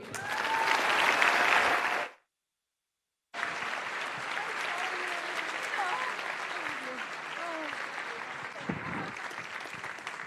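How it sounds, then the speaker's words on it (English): Audience at an awards gala bursts into applause, breaks off briefly in a second of silence, then resumes with steady, full clapping that runs to the end. "Give her a huge round of applause, Monica."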